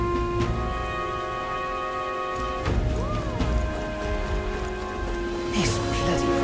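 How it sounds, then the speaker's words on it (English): Steady rain falls in the fantasy video game Metaphor: ReFantazio, a continuous hiss of raindrops layered with sustained game music tones and a few brief sweeping effects. "This bloody rain."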